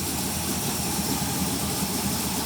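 A small-block Chevrolet 305 V8 running steadily just after a cold start, a continuous low, rumbling idle that holds close and fairly loud with no speech.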